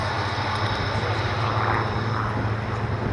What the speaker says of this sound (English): IWM's own Spitfire 1A N3200